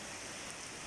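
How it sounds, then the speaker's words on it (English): Steady rain during a summer thunderstorm, a dense even hiss with no breaks, fairly quiet and heard alone without voices. "you could hear the sound of the rain and the thunder"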